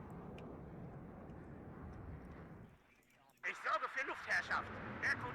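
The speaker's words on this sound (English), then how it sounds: "That's a plane." An aircraft in the combat strategy game WARNO roars steadily overhead, then the drone cuts out and sharper in-game clatter and bursts take over, with no voices.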